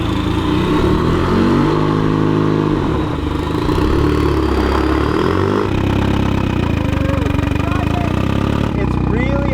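A Mazda Miata with a used transmission is driven off, its engine running loud and close with shifting revs, changing pitch and some clatter throughout.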